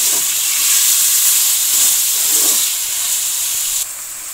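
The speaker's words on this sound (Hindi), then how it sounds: "एक मिनट के लिए मैंने चिकन फ्राई कर लिया है।" Chicken fries in a hot pan as part of a masala macaroni dish, making a loud, steady hiss and sizzle up close that drops a little in level just before the end.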